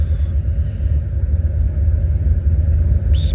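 A car fitted with an aggressive aftermarket exhaust idles with a deep, steady, lumpy rumble close to the microphone, with a brief higher-pitched squeak near the end.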